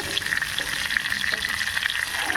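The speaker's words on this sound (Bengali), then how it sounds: "আর একটু ভাজবো আর একটু ভাজলে হয়ে যাবে" Pointed gourd pieces frying in oil in a pan, an even crackling sizzle with small popping bursts throughout, close and steady with no voices.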